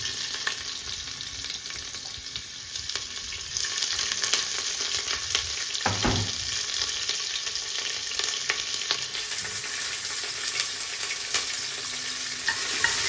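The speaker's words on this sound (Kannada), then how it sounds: "ಇದು ನಾರ್ಮಲ್ ಫ್ರೈ ಆದಮೇಲೆ ಇದಕ್ಕೆ ಆನಿಯನ್ ಹಾಕ್ಕೊಂಡು ಫ್ರೈ ಮಾಡ್ಕೋಬೇಕು." Onion and mushrooms fry in a pan for a mushroom donne biryani. A close, steady sizzle and crackle continues throughout, broken once by a brief scrape of a utensil partway through.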